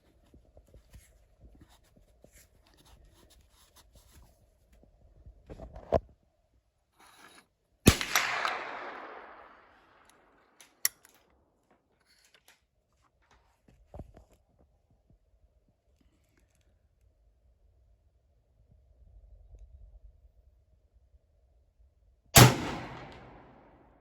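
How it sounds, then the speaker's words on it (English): An airgun fired to fire-lap its barrel: a few sharp, isolated cracks spaced several seconds apart, each with a brief tail, amid near silence and faint handling noise. "And like so, we fire lap the barrel."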